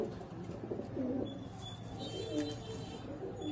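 Fancy pigeons in a home loft coo in soft, rolling low phrases that repeat at a relaxed pace, moderately close over a faint background hiss.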